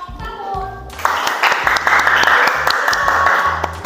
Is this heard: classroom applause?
yes